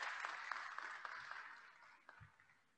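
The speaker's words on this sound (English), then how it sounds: "we'll give this row a round of applause" Scattered applause from an audience at an honors convocation, thin and moderately quiet with a few distinct claps standing out, tapering off toward the end.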